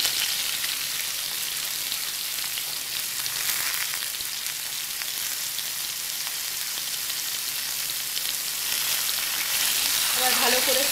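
Mixed vegetables with cabbage and eggplant fry in a pan for a low-oil vegetarian curry, giving a loud, dense continuous sizzle like heavy rain, with stirring scrapes underneath and a brief murmur near the end.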